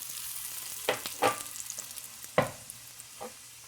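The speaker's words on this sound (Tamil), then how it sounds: "இப்போ இங்கே எண்ணெய் சூடாயிடுச்சு. இதில் கடுகு தாளிச்சுப்போம்." Mustard seeds, urad dal and dried red chillies tempering in hot oil, with soft sizzling and a few sharp crackling pops spread through a quiet kitchen stir.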